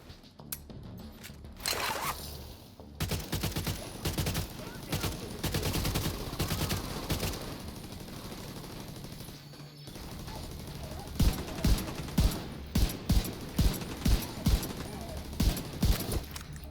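An automated turret deployed in The Division 2 fires in rapid bursts, sharp repeated shots rising out of busy game noise in the second half, with a whirring mechanical burst earlier on.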